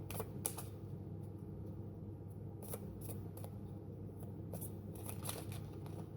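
Tarot cards being shuffled and riffled in a series of brisk, papery snaps and flicks, close and quiet against a soft room hum.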